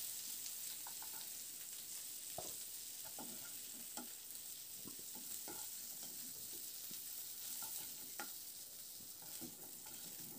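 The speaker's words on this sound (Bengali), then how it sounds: "এবার আলু ফুলকপি আবার খুব ভালো করে কয়েক মিনিট সময় ধরে বেশ করে একটু ভেজে নেব" Potatoes and cauliflower fry in a pan, with a faint continuous sizzle and scattered scrapes and clinks of stirring and no talking.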